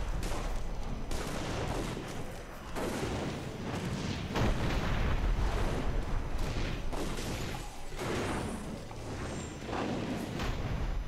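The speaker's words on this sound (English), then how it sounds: "Hoping we're out of the way of the cannon fire" Cannon fire in the fantasy action RPG Dungeon Siege III, heard as dense, continuous booming blasts and rumbling impacts that overlap without pause, loud and close, with no talk.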